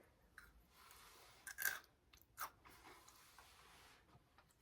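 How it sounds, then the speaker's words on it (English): Soft, close chewing of crunchy marshmallows with a few sharp crunchy bites standing out, quiet and intermittent with pauses between. "that's the sound of the marshmallows"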